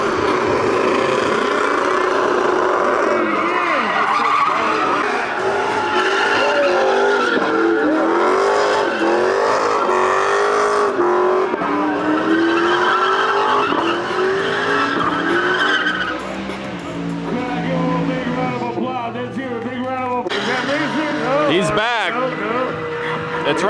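A loud Pontiac Firebird drag racing engine roars and revs continuously at a dragstrip over blaring music and shouting voices, with tire squeal near the end.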